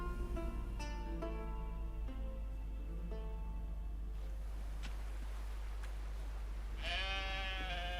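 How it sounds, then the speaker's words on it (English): A sheep's wavering bleat in The Witcher 3 rises near the end over a steady low hum, following a few soft tonal notes earlier. "How do you call a sheep?"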